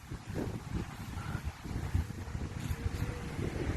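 Strong wind at a beach roars and buffets the microphone in a steady, rumbling gust that lasts the whole stretch, fairly faint overall with no talk.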